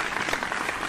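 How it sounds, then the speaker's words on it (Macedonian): A burst of recorded applause effect fills a stage comedy routine, dense and steady clapping throughout with no talk over it. "Пушти се, аплоус, малце адреналин."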